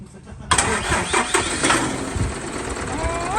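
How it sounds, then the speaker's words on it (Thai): An Isuzu Robocop six-wheel truck with a 4HK twin-turbo diesel cranks and fires about half a second in, then settles into a loud, rough idle close by. People talk in the background. "เดี๋ยวลองสตาร์ทอีกสักรอบ"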